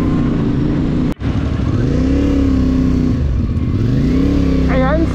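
A motorcycle rides through busy Taguig City traffic in Metro Manila, its engine humming steadily and rising and falling in pitch as it accelerates, with a brief sharp knock early and voices talking over it.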